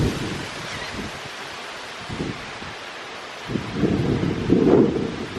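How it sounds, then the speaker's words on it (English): Wind blows outdoors in gusts, rushing across the microphone in uneven bursts that swell louder toward the end. "I've got the wind fighting me out here too"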